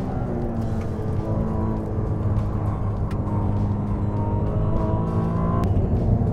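Ferrari 296 GTB sports car driven hard on a race circuit, engine roaring loudly and steadily from inside the cabin with a rising, sustained drone and gear changes, no voices.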